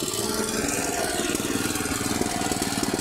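A VAP 630 tiller's small engine running steadily close by, a continuous chugging drone with a fast, even rhythmic pulse and no voices.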